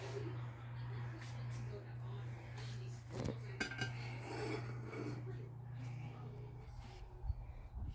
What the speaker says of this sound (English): So now I'm going to go ahead and serve it on the serving dish.